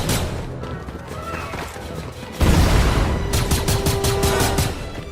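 Heavy cannons fire during a Star Wars event in the video game Fortnite: a dense, continuous barrage of booms and blasts that grows louder halfway through, with rapid repeated bursts near and loud.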